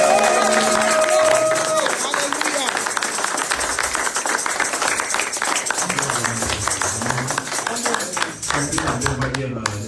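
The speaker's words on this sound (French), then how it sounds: "Est-ce que tu peux encore acclamer?" A church congregation of about two hundred people cheers and claps at a worship service, a loud, dense roar of applause and voices that gradually thins toward the end as a few voices rise above it.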